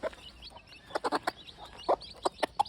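Free-range gamefowl chickens cluck outdoors in a scattered series of short, sharp calls, some louder and nearer than others, over quiet background.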